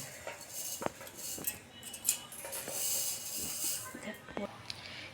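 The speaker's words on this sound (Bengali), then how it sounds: "মিক্সি জারে আমি ঢেলে নিয়েছি।" Fried moong dal tipped into a mixer jar gives a run of light clinks and rattles against the jar, fairly quiet over a faint background hiss.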